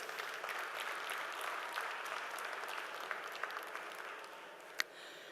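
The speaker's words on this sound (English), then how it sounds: "A loud round of applause, please." An audience applauds steadily at a quality engineering conference, a full round of clapping with a few sharper claps standing out near the end and no voices over it.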